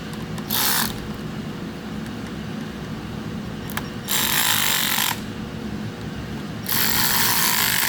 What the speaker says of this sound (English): it's an M10 socket, and then just kind of tighten it until that one's tight